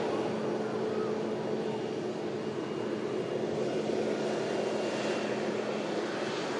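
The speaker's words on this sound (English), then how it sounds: "Telltale sign that this is a Max aircraft." A Boeing 737 Max jet passes during plane spotting at an airport, a continuous broad engine roar that holds steady and loud for several seconds without talking.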